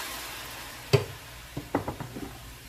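Peppers, garlic and soy sauce stirred in a hot pan for orange chicken, a quiet steady sizzle broken by one sharp clink and a few scraping stirs, with no talking.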